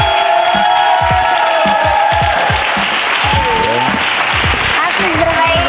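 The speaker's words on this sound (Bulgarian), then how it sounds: "аплодисменти за Ашли" Audience applause and cheering at a Miss Bulgaria pageant show as a contestant is welcomed: loud, dense clapping with whoops and shouts from the crowd, while a presenter's voice and music play over it.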